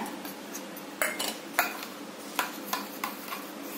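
Egg mixture with chilli and salt being beaten in a bowl for an omelette, a series of sharp spoon clinks against the bowl in an uneven rhythm, close and fairly quiet, no voices.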